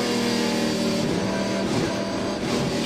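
NASCAR Pinty's Series stock cars launch toward turn one at Canadian Tire Motorsport Park, a loud, dense roar of several engines accelerating together with a continuous, rising drone and no talk over it.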